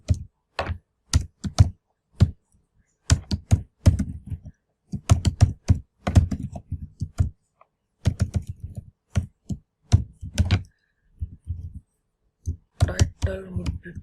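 Fast typing on a computer keyboard while writing HTML code, crisp clustered key clicks in irregular bursts with short pauses, close and distinct, alone without talk.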